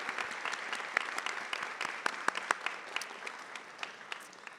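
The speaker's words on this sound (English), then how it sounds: "Please give them all a round of applause." Sustained applause from a seated audience at a high school Seal of Biliteracy recognition ceremony, with dense steady clapping and sharper individual claps standing out throughout.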